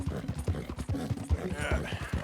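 Horse hooves clip-clop in a steady walking rhythm in Red Dead Redemption 2, each thud close and distinct, with a soft voice occasionally murmuring in the background.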